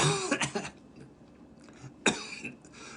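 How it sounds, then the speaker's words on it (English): A few short coughs from a person with a virus, a cluster at the start and another near the end, close and fairly soft, with quiet pauses between. "I'm coughing because I still have a virus"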